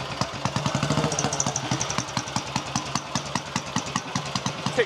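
A classic BSA Gold Star single-cylinder motorcycle, fitted with a GP carburettor, ticks over close by in a workshop with a steady, even thumping beat at idle.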